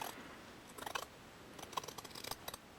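Scissors snipping through fabric for a diaper cover, a few quiet crisp cuts in short bursts against near silence.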